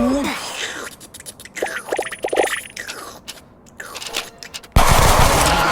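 Rapid bursts of gunfire in the Roblox-style game Block Spin, several quick shots near and loud, with game sounds and a louder noisy burst at the end, while someone talks excitedly over it.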